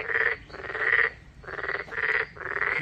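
A male toad or narrow-mouthed frog in an arboretum near Daegu calls loudly to attract females, sending out long rolling trills in repeated bursts with short gaps between them, close by and steady, with no talk over it.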